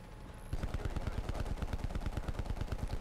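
Gunfire rings out in Black Ops Cold War near a tank, coming as a rapid, steady burst of close, loud shots in quick succession that sound more like automatic fire than single sniper cracks.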